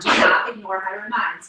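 A single sharp sneeze bursts out up close at the start, quickly followed by a person talking.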